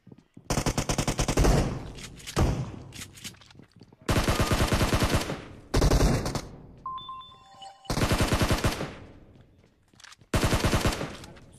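Rapid automatic gunfire in a video game, loud bursts of machine-gun fire in several long volleys separated by short pauses, with a brief electronic beep between them.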